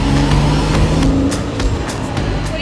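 A small red rental car on Langkawi pulls away. Its engine drones loud and close at first, then thins out and fades as the car drives off, with scattered clicks and no speech.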